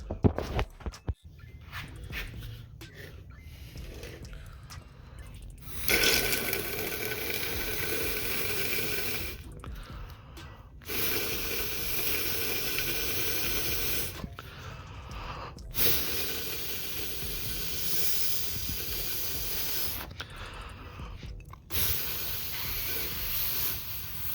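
Air blown by mouth into a power steering hose end on a 2005 Ford Focus, forcing fluid out of the cooler line: several long, steady hissing, breathy gusts separated by short pauses, close and fairly loud.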